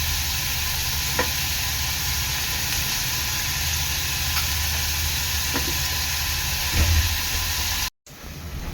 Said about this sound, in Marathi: कांदा आपला चांगला लाल होईपर्यंत शिजवून घ्यायचा आहे